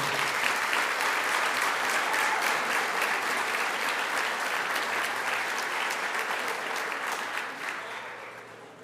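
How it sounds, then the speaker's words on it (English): A crowd at a high school sports awards banquet gives a round of applause, many hands clapping in a full, continuous wash that slowly tapers off. "So I'd like to offer a round of applause to our live stream team"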